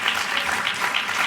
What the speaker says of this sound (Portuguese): vocês, por favor, batam palmas